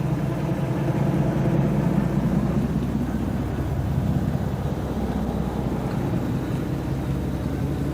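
Archive tape recording of a Class 47 diesel locomotive, a heavy continuous engine rumble that stays loud and steady with a slight swell early on, no voices.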